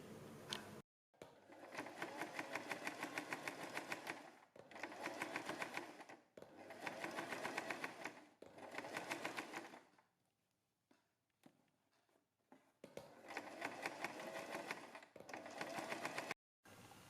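Sewing machine stitching along a printed kurti neckline in bursts of rapid, even needle clatter separated by short pauses, close and clear with no talking.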